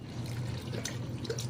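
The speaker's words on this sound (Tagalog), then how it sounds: "Mag-add tayo ng tubig." Water pours into a pot of simmering beef mechado, a steady close splashing and trickling over a low cooking hum, with no talk.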